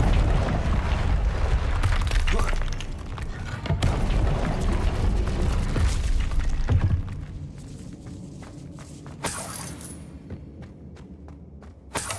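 Booming spell blasts from Hogwarts Legacy gameplay, loud low rumbling impacts filling the first half, then quieter thuds and a sharp hit near the end, with no talking.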